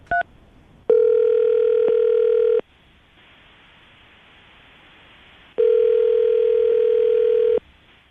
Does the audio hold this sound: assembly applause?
no